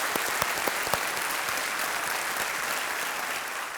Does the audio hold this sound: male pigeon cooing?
no